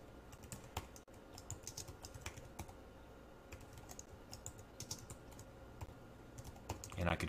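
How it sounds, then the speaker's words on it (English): Rapid typing on a computer keyboard, quiet and steady, with a brief louder clatter at the end and no voices. "we can just start typing in some strings."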